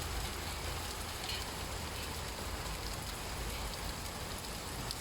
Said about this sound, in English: I just had to share the rain